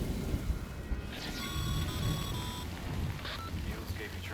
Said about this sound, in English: ओह अच्छा बारिश आ गई।